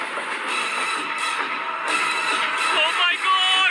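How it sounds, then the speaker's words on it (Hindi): A train approaches amid a large crowd at an outdoor stunt over a giant pit, its steady rumble and rising metallic squeals carried under continuous excited cheering and voices. "ओह माय गॉड, ट्रेन आ रही है।"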